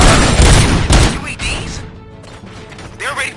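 Bursts of gunfire and heavy impacts ring out in a RoboCop video game, loud and close, with crashing, metallic mechanical clatter and booms that fade before a last flurry, while a voice speaks in the middle of it.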